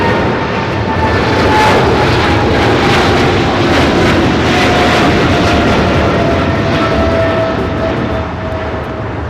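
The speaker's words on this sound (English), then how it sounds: "All right, Singapore, the 777 at 300ER coming in from Tokyo Narita, arriving on the north side and 25 right." Singapore Airlines Boeing 777-300ER arriving from Tokyo Narita onto LAX runway 25 right, a loud, steady jet roar with a gently falling engine whine, swelling close then easing slightly.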